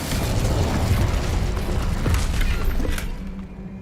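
An Incendio fire spell blast in the video game Hogwarts Legacy roars as a dense, loud burst of booming, crackling fire and debris, sustained for a few seconds before easing off at the end.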